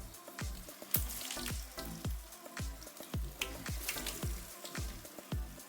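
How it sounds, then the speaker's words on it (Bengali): Bengali-style egg chops, puffed-rice crusted, deep-fry in hot oil with a fast, busy crackle of popping bubbles and sharp spits, steady and close, with no voices. "এগুলো না সব এভাবেই একইভাবে ভেজে নেব।"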